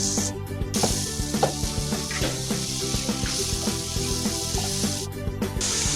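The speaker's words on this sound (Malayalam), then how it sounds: "നമ്മൾ ചിക്കൻ ഫ്രൈ ചെയ്ത അതേ പാനിലേക്ക് തന്നെയാണ് ഈ ഉള്ളി ഇട്ട് കൊടുക്കുന്നത്." Onions sizzle and fry steadily in the same pan previously used to fry chicken, a close, continuous crackling hiss with small pops and no talking.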